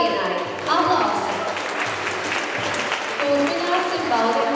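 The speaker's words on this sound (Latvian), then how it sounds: "Aplausi!" An audience at a folk dance concert claps in warm, sustained applause that rises and falls slightly in loudness, with voices audible under and through the clapping.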